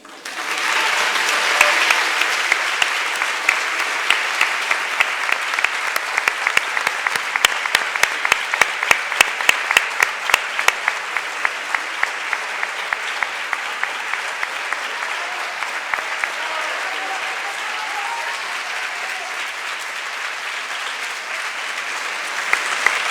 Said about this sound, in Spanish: ha sido porque ha habido que incluir los aplausos